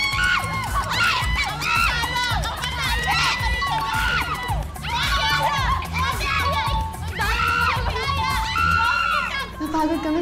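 Contestants and onlookers shout and cheer loudly through a timed laundry-hanging challenge on a game show, with rising excited calls repeating in waves for the whole stretch.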